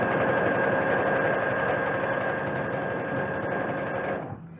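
A sewing machine stitching a pair of pants runs in a steady, close, buzzing whir with a fast mechanical rhythm, then winds down and stops near the end.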